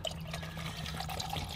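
Water pours into a drink mix container for a camping drink, a faint, steady trickle and splash, with no voices over it.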